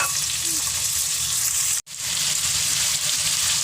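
Pork frying in hot oil until golden brown, a loud, dense, continuous sizzle close up with one brief drop-out midway, then the steady crackle resumes.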